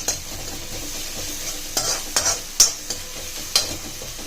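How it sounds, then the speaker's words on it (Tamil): Onion sautéing in a pan with crushed ginger and garlic: a steady close sizzle broken by several sharp scraping stirs of a spoon, with no voices. "இதை நல்லா வதக்கிடுங்க. நல்லா ப்ரௌனிஷ் ஆகட்டும்."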